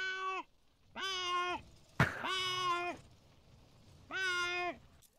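Someone imitates a cat with their voice, giving four clear, tonal meows at a steady pace, close and loud. A short sharp knock or clatter comes between the second and third.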